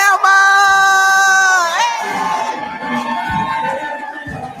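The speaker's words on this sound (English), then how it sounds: "stand to your feet, clap your hands, and welcome Mr. Roland Martin to Gaston" Crowd at an education symposium in Gaston, Alabama, welcoming Roland Martin, with loud cheering and whooping layered over a blaring musical tone that drops away, then rougher crowd noise and scattered shouts.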